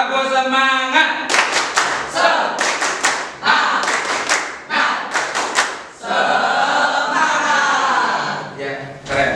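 A junior high science class performs a rhythmic group clap. A brief chant opens it, then several fast, tight clusters of hand claps sound loud and close, and voices return at the end.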